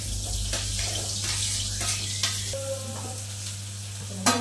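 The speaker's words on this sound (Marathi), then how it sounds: "तेल गरम झालंय, आता फक्त त्याच्यात कांदा आणि मिरची टाकून द्यायची।" Onion and green chili frying in hot oil with cumin in a kadhai, a steady sizzle with occasional stirring clinks throughout, no voices.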